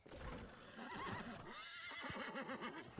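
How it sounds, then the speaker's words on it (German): Horse neighing in the video game New World, a loud, drawn-out whinny with wavering pitch over clip-clopping hooves and background game noise. "dieses Viehern ist auch hart"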